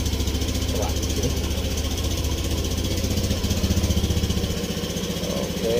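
A Honda Beat ESP scooter fitted with an upgraded CVT and custom pulley runs its engine at a steady, loud, buzzing high idle close by, with a brief voice partway through.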